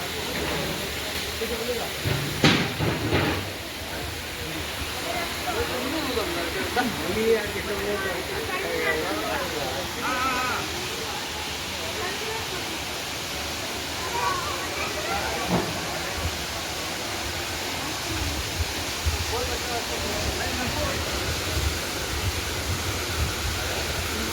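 A steady, hissing roar of floodwater pouring over a concrete dam slab at the Dindi project continues throughout, with faint voices and a few brief knocks in the first seconds.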